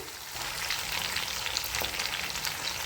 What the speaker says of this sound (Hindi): तो अब हम इसके अंदर चावलों को डाल देते हैं।